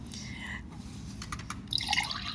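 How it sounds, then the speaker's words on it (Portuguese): A water-drinking reminder alarm goes off with a series of bright, tinkling water-drop tones, starting faintly and growing louder near the end, over a low background hum. "meu despertador de água tocou"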